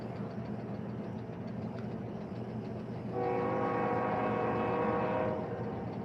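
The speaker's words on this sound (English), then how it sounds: "Here comes the train." A train passes at night beside a mobile billboard work site, a steady distant rumble with a long, loud horn blast in the middle, then the steady roll again.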